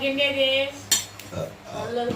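Bowls clink and knock against each other and a hard surface as they are handled and set down in a home kitchen, with one sharp ceramic clatter in the middle of the clip, close and clear with no talking.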